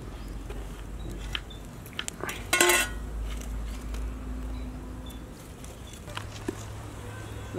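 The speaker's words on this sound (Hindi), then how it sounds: "कढ़ाई लगा रही हूँ।" A kadai (wok) is set down on a home kitchen stove with a sharp metallic clank about a third of the way in, surrounded by lighter clinks of utensils and low room hum, with faint shuffling.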